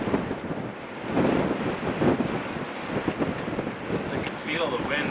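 Strong wind gusts outdoors in snowy terrain, buffeting the microphone with uneven roaring bursts that rise and fall over several seconds, close and fairly loud.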